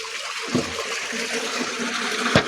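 Water is being drawn on a farm while empty bottles are tossed in to float, giving a continuous gushing, splashing flow with a couple of brief louder splashes, close by.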